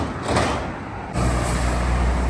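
A bus passes along a street in a residential area of the UK, a steady close engine rumble and road roar that briefly eases and then swells again, with no talk.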